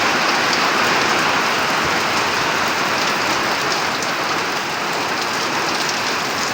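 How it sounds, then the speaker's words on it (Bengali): A sudden heavy downpour on a midweek afternoon makes a loud, dense, unbroken roar of rain hammering on surfaces throughout. "হঠাৎ মুষলধারে বর্ষা।"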